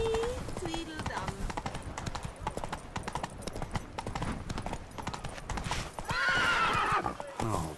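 Roach the horse in The Witcher 3 gallops with steady clip-clop hoofbeats throughout, a loud whinny rising near the end, while someone talks over the hooves.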